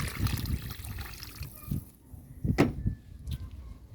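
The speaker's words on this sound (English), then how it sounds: "And I dash in some water." Water is dashed into a pot of Jamaican stew peas with pigtail, a short gushing splash followed by a few clanks and sloshes of the pot nearby, with no talking.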